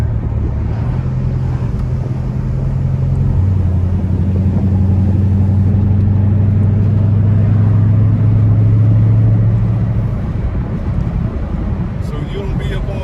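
Widebody Dodge Charger Scat Pack accelerating, a loud low engine drone rising in pitch and holding steady for several seconds before easing off, heard from inside the car with wind rumble and a voice speaking over it.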